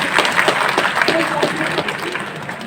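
An audience at an evening university tribute event in Gwalior gives loud, dense applause, a sustained wash of clapping that fades slightly toward the end, with a voice faintly heard beneath.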